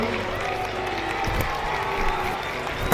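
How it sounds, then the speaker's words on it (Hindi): Spectators at a large school sports event applaud runners in a 100 metre race. The sound is a continuous wash of clapping and crowd noise, with voices mixed in. "सभी दर्शक अपने जोरदार तालियां बजाकर इनका स्वागत कीजिए।"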